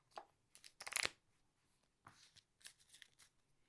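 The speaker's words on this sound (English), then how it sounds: "let me shuffle up my deck because I have run out of cards" A deck of cards for the Slay the Spire board game being shuffled, several quick riffling bursts spread across a few seconds, the loudest near the start, fairly quiet and close.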